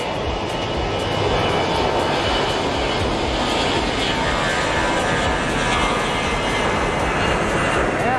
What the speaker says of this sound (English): Loud airplane. This is definitely an older one.